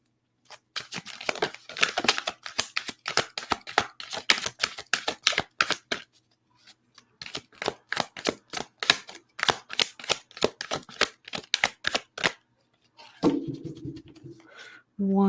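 Reading cards are riffle-shuffled in two long bursts of rapid papery flutter, each run of fast snapping flicks heard up close, followed by a brief softer rustle at the end.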